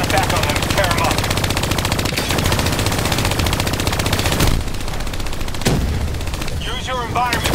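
Hijacked turrets firing in Call of Duty Black Ops 3: loud, continuous rapid machine-gun bursts with a brief pause partway, and a voice speaking faintly beneath the gunfire.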